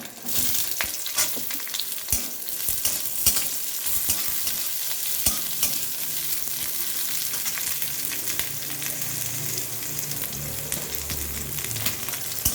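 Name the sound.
frying chopped onions for red amaranth greens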